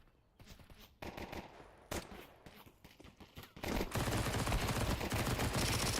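Gunfire from a Counter-Strike match, including Desert Eagle pistol shots, sounds as scattered loud cracks, then a dense, sustained burst of rapid firing toward the end.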